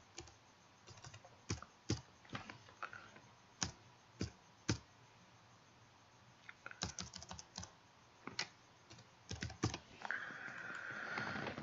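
Keystrokes on a computer keyboard while renaming a desktop icon, arriving in short irregular bursts of crisp clicks separated by pauses, close and clear with no talking.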